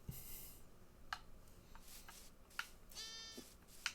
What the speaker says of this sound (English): He made a little baby sheep noise.